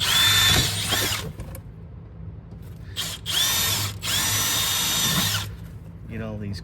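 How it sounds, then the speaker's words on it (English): A power drill bores into the corners of a box in a few loud whirring bursts, stopping and restarting, with a voice speaking briefly at the end. "Now I'm going to drill the corners"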